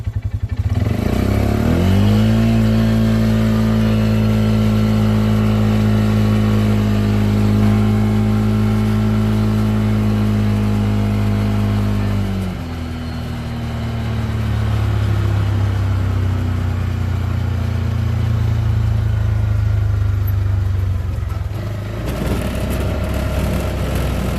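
Polaris RZR 570 side-by-side with big 32-inch tires accelerating from a standstill in high range, a loud close engine drone rising steadily in pitch for about ten seconds, dropping briefly, then climbing again before easing off.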